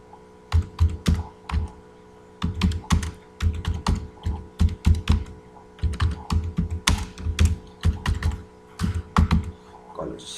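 Keys clatter on a computer keyboard in bursts of quick clicks with short pauses, close and clear, while someone types text into an ASP.NET web page during a coding session.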